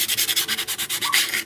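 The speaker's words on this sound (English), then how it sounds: "I'm just sanding away." Wooden dog toy box edges being sanded by hand with sandpaper, quick rhythmic back-and-forth scratchy strokes, close and steady, about a dozen rubs in quick succession.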